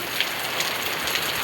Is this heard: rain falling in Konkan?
yes